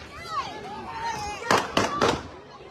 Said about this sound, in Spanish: En el video se escucharon los disparos del ataque